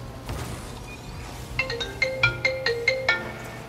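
A mobile phone ringtone starts after a brief pause and plays a bright, repeating melodic pattern of short electronic tones that rings out clearly over a low background hum.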